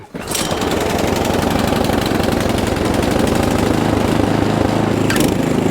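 A snowblower engine catches right away and settles into a loud, steady running rumble close by. The tone stays even and the engine sounds slightly rough throughout.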